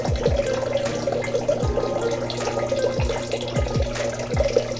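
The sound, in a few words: tap water running during medical handwashing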